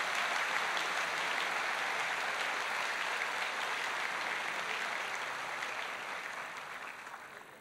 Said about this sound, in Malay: Kita berikan tepukan kepada adik Alis.